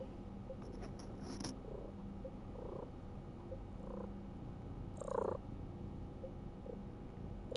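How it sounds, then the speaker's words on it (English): A soft, steady purring hum runs throughout, close by and low, with a few faint clicks and rustles on top. "I don't know if you can hear my cat over here purring away."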